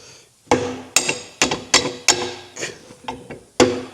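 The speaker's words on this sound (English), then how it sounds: "Plastic mallet." A plastic mallet taps a U-bolt on a Scout 800 rear leaf spring being mounted to the axle, about eight sharp, close knocks at an uneven rhythm with no talk.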